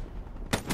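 Video game gunfire in Camping Simulator, a quick burst of two or three sharp shots over a low rumbling background.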